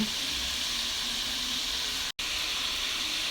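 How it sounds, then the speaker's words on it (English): Butter and garlic sizzle in a pan as pork chops are prepared, a steady, even hiss that continues without a break except for a momentary dropout, with no talk. "now that the butter and the garlic is coming to a sizzle"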